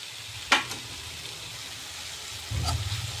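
Onion, tomato and other vegetables sautéing in a pan for a spiced thokku, giving a steady low sizzle with a couple of brief clinks of a stirring spoon and no talking.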